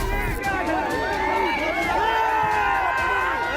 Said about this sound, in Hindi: और तो और सांसद के खिलाफ नारे भी लगाते रहे